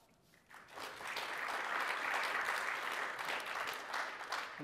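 Audience applause at a Spring Framework conference talk, a vote by clapping for Java configuration: a dense, steady wash of many hands from a fairly large crowd, rising quickly and holding at moderate level throughout.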